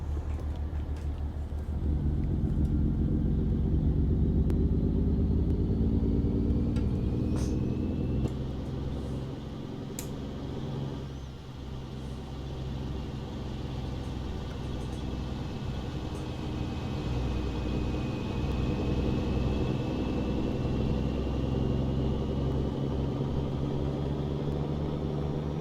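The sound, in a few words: 1985 Chevy Bison truck engine driving, from a video game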